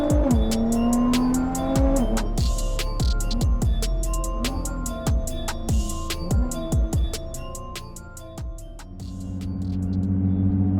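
A Nissan R35 GT-R with a Bensopra kit accelerates hard through repeated gear changes, its engine rising and dropping in loud, close revving sweeps before easing to a rumbling idle.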